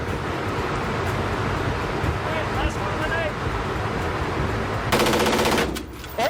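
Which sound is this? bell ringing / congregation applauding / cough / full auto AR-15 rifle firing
full auto AR-15 rifle firing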